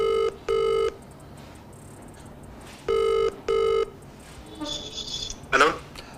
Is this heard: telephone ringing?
yes